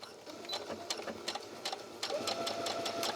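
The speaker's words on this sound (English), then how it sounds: "I'm just using a narrow seam allowance here and sewing those middle 2 inches." A sewing machine stitches knit rib cuff fabric with a narrow seam allowance, a close, steady rhythmic whir of needle strokes that rises slightly in pace near the end.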